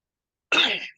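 A single short, raspy cough or throat-clear from a man during a casual podcast-style chat, close and fairly loud, lasting about half a second with no talking over it.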